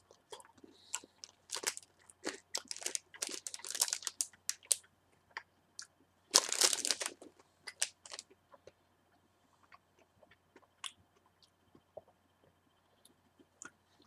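Crunchy Cinder Crunch chocolate candy being bitten and chewed close to the mic, with a burst of loud crackling crunches early on, then quieter, sporadic chews and clicks trailing off.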